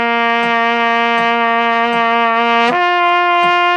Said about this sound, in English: number 11, starting on a low C, lip slurs should sound like this.